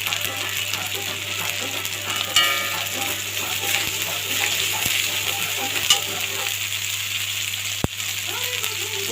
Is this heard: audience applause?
no